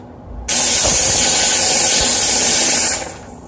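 A HomClip steam cleaner blasts a loud, steady hissing jet of steam onto a Waterpik PowerSpray shower head in a bathroom, starting abruptly, holding for about two and a half seconds, then cutting off.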